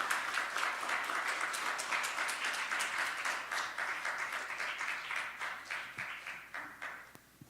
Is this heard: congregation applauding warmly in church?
yes